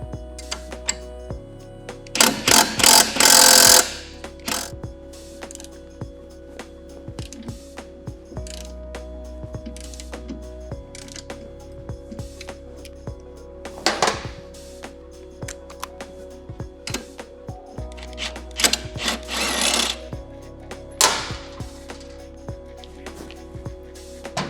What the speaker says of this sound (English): now I can use that 19mm socket on the axle nut and the 15 to hold the axle